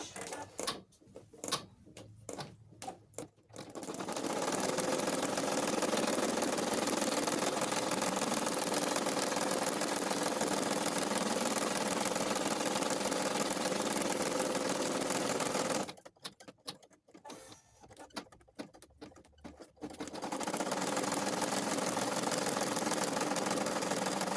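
An embroidery machine sews a placement stitch on the body of a cloth doll, a steady rapid mechanical stitching hum that runs for about twelve seconds, then stops briefly and starts again near the end.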